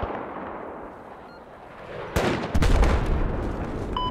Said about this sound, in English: That guy is shooting at us with an assault rifle and he's trying to hit us.